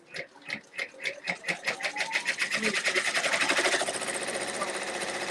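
A multi-needle embroidery machine stitching a bow onto an in-the-hoop project: rapid, evenly spaced mechanical clatter that speeds up into a dense, steady whir, close and fairly loud.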